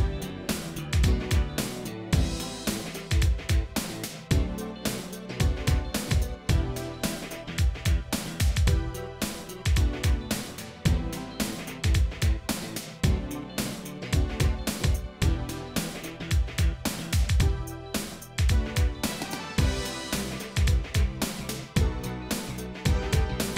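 The bridge of a New Jack Swing style 90s R&B beat, with punchy drum hits in a steady, swung groove under layered synth chords and bass, dense and loud with no vocals.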